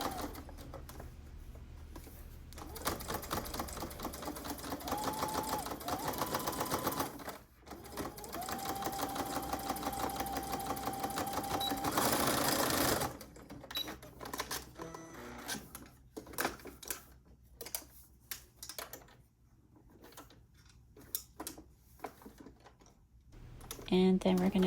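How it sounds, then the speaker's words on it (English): A sewing machine runs in rapid whirring bursts while top stitching the bottom edge of a fabric face mask, pausing between passes, with a person talking throughout. "Now we're top stitching the bottom of the mask."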